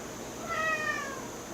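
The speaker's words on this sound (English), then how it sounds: "And the cat loves this meat." A house cat begging for roast beef lets out a single drawn-out meow, clear and close, rising then falling over about a second against a quiet kitchen background.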